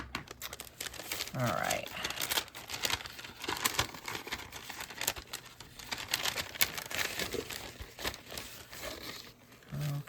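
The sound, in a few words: tearing open taped advent calendar packaging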